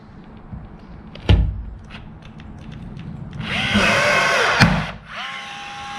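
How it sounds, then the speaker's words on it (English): A Milwaukee rivet gun sets 3/16-inch stainless steel rivets on an ambulance conversion: two sharp snapping pops, with a whirring motor burst between and after them, close and loud. "a Milwaukee rivet gun, which can draw 3/16 of stainless steel rivets"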